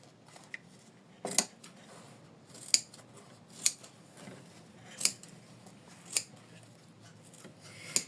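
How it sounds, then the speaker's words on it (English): Scissors trim butterfly-shaped felt in a quiet room, giving a run of about seven crisp, close snips spaced roughly a second apart, with faint rustling between cuts. "Next, I'm gonna trim my butterfly felt."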